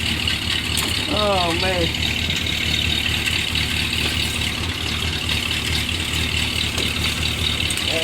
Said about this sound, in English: He started the Studebaker.